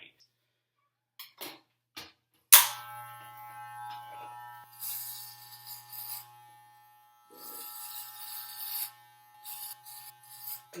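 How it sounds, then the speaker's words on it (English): An electric razor shaving a head, heard as a steady buzzing hum switched on after a sharp click and running through most of the stretch, close and moderately loud, with brief pauses and scraping strokes. "I am super bald and ready to shave my head tonight."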